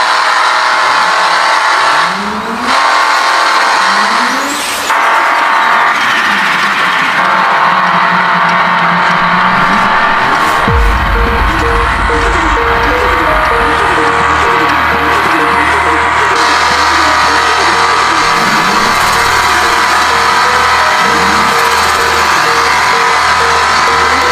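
An accident-damaged car, fully wrecked, drives along with its engine running loud and steady, a low rumble rising as it gathers speed for most of the stretch.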